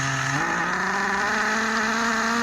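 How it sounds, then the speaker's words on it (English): A Schumacher XTR21 nitro RC car engine, running rich, buzzes loud and close, its pitch stepping up sharply as it revs and then holding a steady high whine. "If you can hear the engine now, it's lazy"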